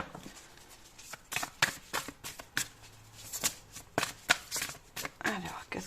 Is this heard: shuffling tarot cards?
yes